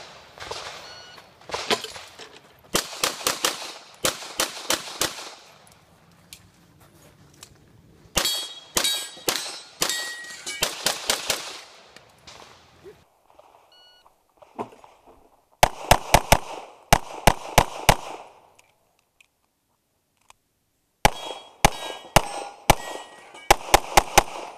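Gunshots ringing off steel targets during a USPSA practical shooting stage, sharp cracks in quick clusters of several shots separated by pauses, each followed by metallic clangs, loud and close.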